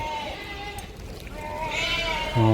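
Sheep in a village flock bleat at night, with a faint call early on and a louder, wavering bleat near the end over a low, noisy background.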